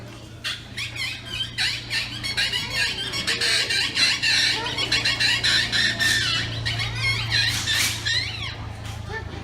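A predator caller imitates a bird with a rapid series of high, warbling squawks and chirps, close and fairly loud, continuing for several seconds.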